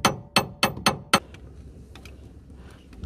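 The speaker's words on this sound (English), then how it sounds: "I'm gonna try and hammer this part out." Five sharp metal hammer blows in quick succession on a VW T4 drive shaft part held up by a jack under the brake disc, close and loud, followed by quieter clinks.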